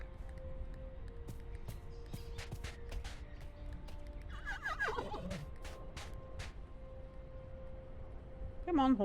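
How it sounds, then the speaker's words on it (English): A horse whinnies once partway through, a short rising-and-falling call from a video game, heard over constant game background noise with some talk. "Come on, horsey."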